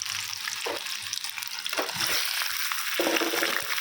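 Potatoes dropped into hot ghee for a pepper potato curry, frying with a steady bright hiss and crackle, with a few louder splashes and spits.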